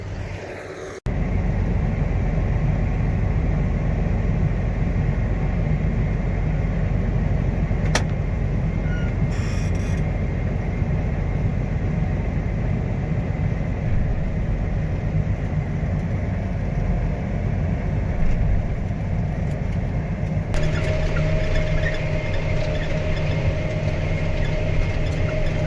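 A John Deere 8230 tractor engine rumbles steadily at close range on a narrow road, a continuous low drone with road noise and no talking.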